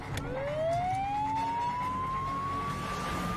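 A siren winds up from low to a high, sustained wail, loud and continuous over faint background noise.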